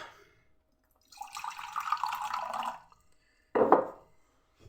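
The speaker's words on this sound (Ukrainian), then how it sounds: "І додається водички у стаканчик." Water trickles into a small glass for storing butter in a butter bell, a short steady pour followed by a brief louder splash.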